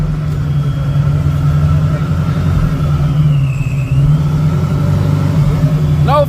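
A drag race car engine idles and revs with a steady low rumble as it pulls up, loud and close, with voices faintly audible beneath it.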